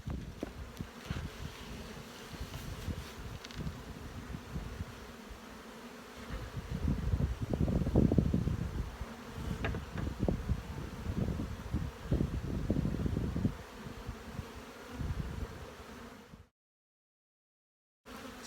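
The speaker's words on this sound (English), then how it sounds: "It's a box of bees." Honey bees buzz around an open hive box in early May, a steady low drone with swells of louder, closer buzzing in the middle, under wind rumble, before cutting out abruptly.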